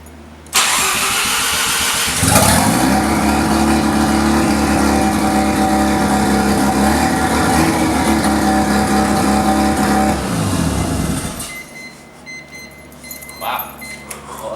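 Mazda RX-7 FD3S rotary engine with an open downpipe cranks and fires into a loud, raw, rasping idle close by, rising briefly, then cuts off, leaving quiet clicks behind.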